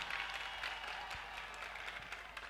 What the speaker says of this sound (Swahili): Tujipigie makofi mengine mengi